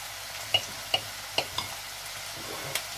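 Halved eggs frying with onions in hot oil in a pan for egg curry, a soft steady sizzle broken by about six sharp, close spatula taps against the pan.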